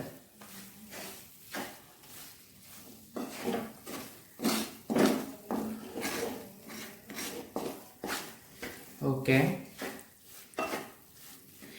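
Ghee-coated cornflakes Mysore pak mixture being stirred in a pan, with a spoon repeatedly scraping and clinking against the metal in an irregular rhythm, close and moderately loud, with a brief word spoken once.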